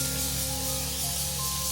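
Water sprayed from a bottle onto a curly wig, a continuous close, loud hiss filling the whole moment without pause.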